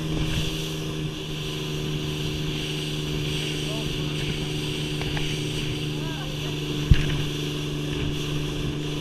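A motorboat on Greers Ferry Lake, Arkansas, gives a steady engine drone with a constant tonal hum. It is heard from a moderate distance alongside wind noise, with one sharp knock partway through.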